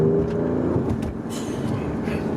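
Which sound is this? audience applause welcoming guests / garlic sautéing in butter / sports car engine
sports car engine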